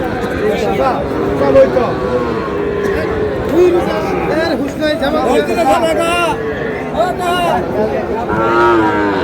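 Sahiwal cattle lowing amid a busy crowd at a livestock market, with people talking and haggling nearby throughout.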